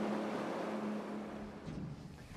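A steady motorboat engine on a trailcraft boat drones with a low hum beneath rushing water and wind noise, continuous and fairly close, heading along the Kimberley coast.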